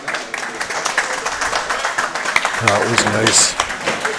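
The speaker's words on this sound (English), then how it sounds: "The crowd clapping." Crowd applause breaks out in the hall after an 8-ball goes down at a pool championship's men's singles final, with steady clapping throughout and a commentator talking over it.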